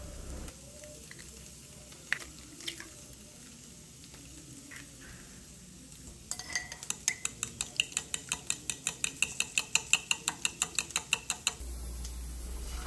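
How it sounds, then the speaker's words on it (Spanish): Four eggs are whisked in a cup with a fork, a fast run of rhythmic clicking taps that picks up midway and continues steadily for several seconds before stopping. "Voy a estar ocupando cuatro huevos y los voy a echar en esta taza para después"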